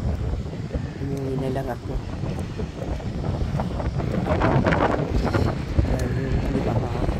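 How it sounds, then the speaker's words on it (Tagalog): Strong wind at a rock formation in New South Wales, Australia buffets the microphone in a continuous roaring rush, with a person talking beneath the gusts. "lakas ng hangin."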